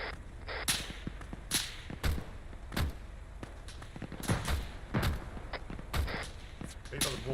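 Machine gun fire in Arma 3 rings out in sharp, sparse cracks spaced roughly every second, echoing across an open battlefield with a steady low rumble underneath and voices briefly audible.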